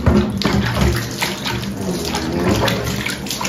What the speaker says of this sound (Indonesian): Kita siram-siram, teman-teman tuh.